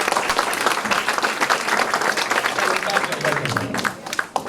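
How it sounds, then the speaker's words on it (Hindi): Students standing in a workshop session give loud, sustained applause, a dense wall of clapping with crowd voices mixed in, tapering slightly at the end. "ताली बजा दो जोरदार।"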